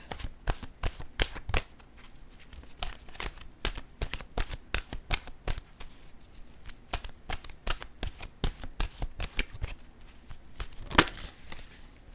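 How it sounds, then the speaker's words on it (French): Oracle cards being shuffled by hand, a long run of quick papery riffles and slaps in an uneven rhythm, close and fairly quiet. No talking. "je vais maintenant piger une carte de mon oracle de l'âme intuitive"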